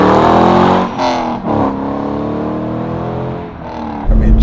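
A stock-exhaust 2004 Chevrolet Corvette C5 Z06 on track accelerates hard, with a loud, close engine note rising through the revs, a brief dip as it shifts, then surging again.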